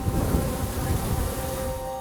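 Honeybees buzzing around a hive in summer, a dense, steady drone of many insects close by, continuous and fairly loud throughout the short stretch.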